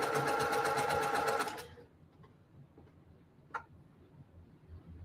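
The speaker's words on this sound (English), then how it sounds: "So I like to sew as much as I can without cutting the thread, if possible." A sewing machine stitches fabric pieces of a sunflower quilt block in a fast, even run of ticking beats for about a second and a half, then stops, leaving near-quiet with a single small click.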